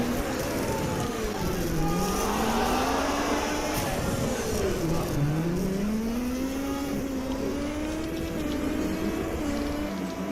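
A yellow-and-black Renault Clio Super 1600 rally car drives hard along a stage, its engine snarling and swooping in pitch through gear changes and slides, heard steadily from close range over rough surface noise.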